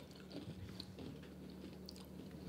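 Ruffles Queso cheese chips crunch as they are bitten and chewed close to the microphone, a continuous crackly munching with no talking.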